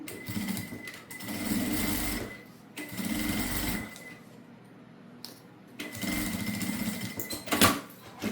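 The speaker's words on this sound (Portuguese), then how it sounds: "Eu vou fazer uma costura. para fechar." Domestic sewing machine stitching a fabric seam to close a rosary holder, a steady close whirring run in several bursts with short pauses between them.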